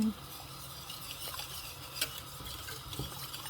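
Homemade béchamel sauce is stirred in a pot with salt, a little sugar and mustard, giving a quiet, continuous scraping and swishing of a utensil against the pot, with a faint clink now and then.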